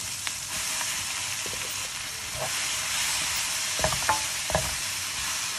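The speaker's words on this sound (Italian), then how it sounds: "Ora aggiungiamo un po' di cipollina, la facciamo rosolare un po'." Chopped onion sautés in a hot pan for a sausage and spinach trofie dish, giving a steady close sizzle and fry with a few clicks and scrapes of stirring.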